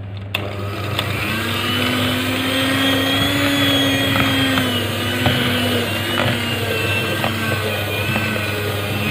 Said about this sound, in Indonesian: Kita mixer sampai semua tercampur rata ya teman-teman, sampai adonannya agak kalis.